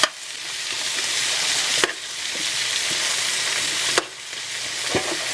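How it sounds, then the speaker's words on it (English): Vegetables cooking in a pan on low heat give off a loud, continuous hissing sizzle from start to finish, broken by a couple of sharp clanks or knocks, with no voices. "we're going to let these lovely vegetables simmer just a little bit more"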